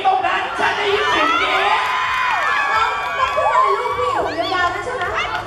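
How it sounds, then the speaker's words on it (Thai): A loud crowd screams and cheers with shrill, high voices rising and falling, with some shouting and chatter mixed in. "ฉันได้ยินเสียงกรี๊ดตรงนั้น"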